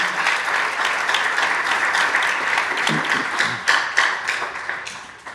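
A church congregation applauding together, a dense, steady wash of many hands clapping that carries on throughout, with a few louder individual claps standing out toward the end.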